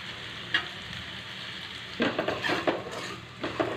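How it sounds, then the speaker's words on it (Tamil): Spices and asafoetida powder fry in a pan for a fragrant kulambu, a soft steady sizzle with a few brief clinks and stirring scrapes of a utensil against the pan. "இந்த மாதிரி நல்லா ஃப்ரை ஆகட்டும்."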